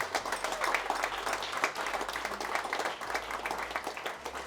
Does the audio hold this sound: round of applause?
yes